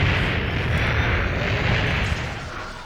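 Star Viper torpedo explosions in Star Wars: Shadows of the Empire, a dense, loud, sustained rumbling roar of blasts that fades slightly at the end, with no talking.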